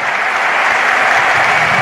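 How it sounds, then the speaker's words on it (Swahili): Congregation at a church service applauding loudly, a thick continuous roar of many hands clapping at once, close and sustained without pause. "Hayo makofi ni kama hayaelewi Mungu ametenda nini."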